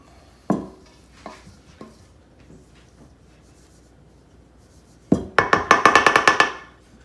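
Dry biscuit ingredients being mixed in a bowl, a few scattered knocks and scrapes followed by a quick burst of rapid clinking stirring near the end, close and otherwise quiet.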